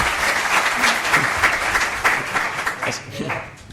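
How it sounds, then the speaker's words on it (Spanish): An audience at a business intelligence software talk on Odoo gives a round of applause, a loud, dense patter of many hands clapping steadily and easing slightly toward the end, with faint voices underneath. "Una ovación, ¿no?"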